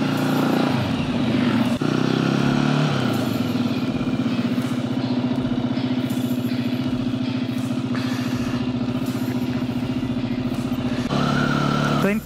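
A fuel-injected Janus Halcyon 450 motorcycle, a single-cylinder bike, starts and rides: a steady, close engine thrum with shifting pitch as it pulls away, under intermittent talk.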